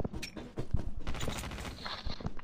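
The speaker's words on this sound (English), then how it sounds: "somebody shooting at me" Gunfire in a Call of Duty Mobile battle royale match: dense, continuous bursts of shots and impacts with busy game noise, loud and close throughout, no voices.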